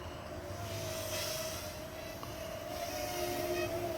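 A Rabble Rotorworx Rabble Rouser FPV drone flying past fast: a steady, high-pitched motor whine drones on continuously over rushing wind noise, holding a fairly constant pitch throughout with no voices.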